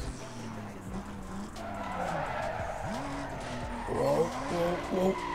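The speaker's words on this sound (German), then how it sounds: "Zu viel Wheelspin" Wheelspin and tire squeal from a car in the racing video game Need for Speed Most Wanted, a Toyota Supra, with engine tones rising and falling through gear changes and a sharp squeal burst near the end.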